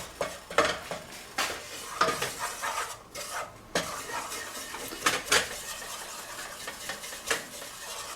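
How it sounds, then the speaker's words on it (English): Flour being stirred into melted butter in a pan for a broccoli and cheese sauce, with a utensil repeatedly scraping and clinking against the pan in an irregular rhythm, close and fairly loud, no talking. "just mix it in with the butter to an even consistency"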